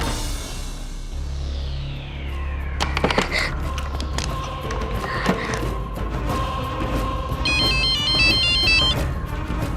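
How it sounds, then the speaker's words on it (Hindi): A phone ringtone chirps in a repeating electronic pattern amid household clatter and a low hum, fairly close. "फोन उठा लीजिए।"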